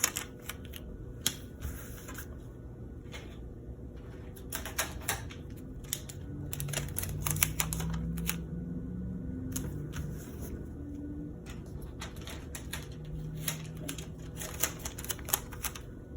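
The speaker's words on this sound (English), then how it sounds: "And I'll be taping up to just about here." Tape pulled and pressed over a squishy craft design, heard as bursts of crackly, sticky rustling and tearing, close and fairly quiet, with brief pauses between the strips.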